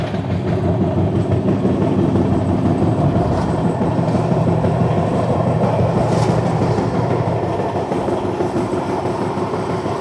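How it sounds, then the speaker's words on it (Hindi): A train rumbles steadily on the line toward Koraput Junction, a loud, even roar of wheels and carriages with faint rhythmic clatter throughout. "वहाँ से कोई तो ट्रेन आ रही है"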